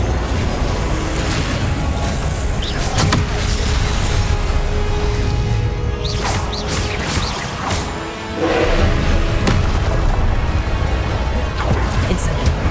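Repeated Confringo blasting spells cast in Hogwarts Legacy, with booming explosive thuds at irregular intervals among other spell effects, while a voice keeps calling out spell names throughout.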